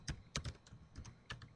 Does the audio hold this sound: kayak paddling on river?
no